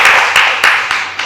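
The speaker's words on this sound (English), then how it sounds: "Everyone, please give a massive round of applause to them." Audience applause for the two co-founders of the Zappyhire software company at a story session, a steady wash of clapping with a few louder surges, close and without talk.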